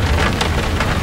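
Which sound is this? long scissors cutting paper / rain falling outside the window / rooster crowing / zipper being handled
rain falling outside the window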